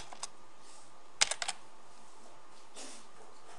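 A computer keyboard clicks close by: a couple of isolated keystrokes, then a quick cluster of four or five taps, a softer press later, against a faint steady hum.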